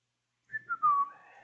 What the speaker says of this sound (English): Whistling away.